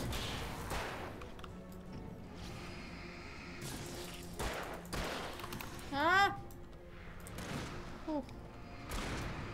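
Gunfire during an ambush in Alan Wake: repeated sharp shots and whip-like cracks spread across the scene, mixed with thuds and a shrill rising cry, while a player talks throughout.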